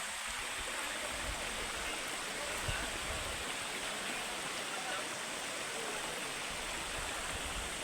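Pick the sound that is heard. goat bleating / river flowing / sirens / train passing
river flowing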